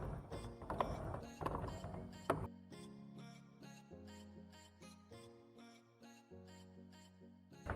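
A small screw on the positive terminal of a car's H4 headlight relay is tightened with a ratcheting tool, giving a rapid series of close, quiet clicks with a few louder metallic taps at the start.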